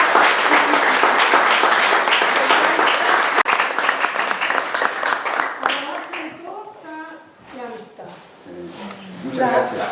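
Audience at a book launch in Santiago applauding, loud dense clapping for several seconds that thins out, followed by people talking.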